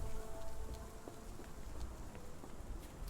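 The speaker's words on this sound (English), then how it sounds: "This dreary rain" Steady rain in the video game Sherlock Holmes: The Awakened pours down continuously, a dense hiss of drops spread evenly across the whole stretch with no voices.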